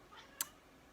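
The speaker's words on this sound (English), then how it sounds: "my cat answered, he meowed" A pet cat lets out a single short meow, faint and a little distant, followed by quiet.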